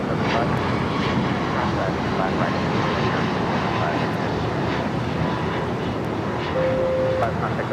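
A Boeing 747 airliner takes off at LAX, its engines producing a loud, continuous broadband roar that holds steady throughout, with voices faintly present beneath it.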